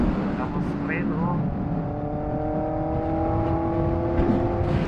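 Vehicles passing on the San Jose bypass road, a continuous whir of traffic from close by with a faint horn-like tone, heard under talking.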